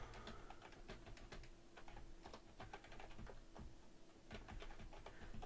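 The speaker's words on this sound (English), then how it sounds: "type in a phrase" Fingers typing steadily on a computer keyboard, a quick run of closely spaced key clicks and taps, faint and close with no talking.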